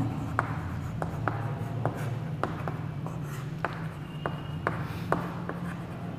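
Pen or chalk strokes tap and scratch in an irregular rhythm during a Hindi grammar lesson, fairly close and distinct over a steady low hum.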